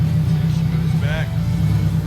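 K24 turbocharged Honda Civic EK coupe idling steadily as it eases backward in reverse, a deep continuous engine rumble close by with a brief higher whine midway, while people talk nearby.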